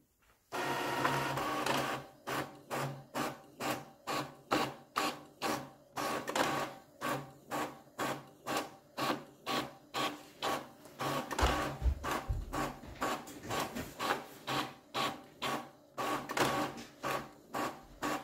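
An Epson EcoTank L6160 printer prints pages with a steady, rhythmic run of mechanical passes, dozens of evenly spaced whirring strokes heard close up with no talking.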